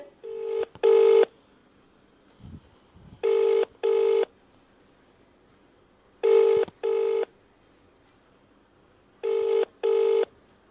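A telephone rings on an outgoing call: paired electronic ring bursts repeat four times at even intervals about three seconds apart, clear and fairly loud, with near silence between them.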